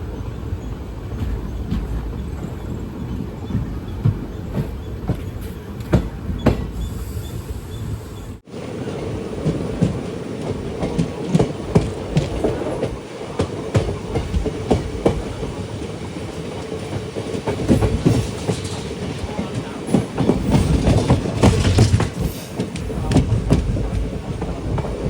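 The Palakkad to Tiruchendur Express rumbles along inside an unreserved coach, with steady loud wheel clatter and repeated clickety-clack over a long continuous run.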